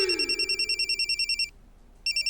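A telephone rings in repeated electronic bursts in a quiet indoor scene, pausing briefly before ringing again; a brief low tone fades at the start.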